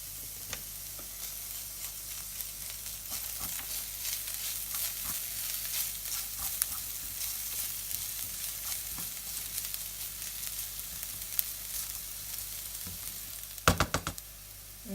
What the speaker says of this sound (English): just let it flavour the oil, let it cook through for a minute or so